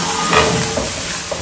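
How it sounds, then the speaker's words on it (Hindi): Golden-brown onions sizzle and fry steadily in a hot pan after ginger garlic paste goes in for a village-style shorba chicken, a close, continuous crackling hiss with a brief louder flare early on and no talking. "अब ये हमारा प्याज जब गोल्डन ब्राउन सा हुआ है तो हमने इसमें डाल दिया है जिंजर गार्लिक का पेस्ट"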